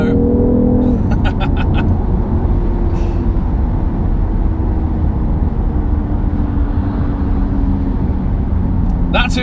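A Renault Clio drives past on the road and revs, a loud, continuous engine roar heard from inside a moving car, steady throughout with brief higher clicks near the start and end.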